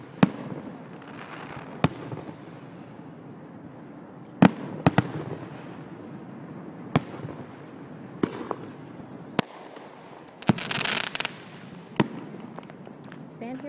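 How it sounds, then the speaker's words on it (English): Fireworks at a Fourth of July display in Olean burst with sharp, irregular bangs, some distant and some louder, interspersed with a crackling flurry, while people talk and murmur in the crowd nearby. "Look at the fireworks."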